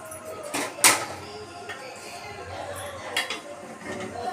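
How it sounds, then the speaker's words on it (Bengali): A lid lifts off a pot of Bengali vegetable khichdi with a bright metallic clink near the middle, amid soft kitchen rattles and steady background hiss. "আমি এখানে ঢাকনা খুলে খিচুড়িটা দেখে নেব।"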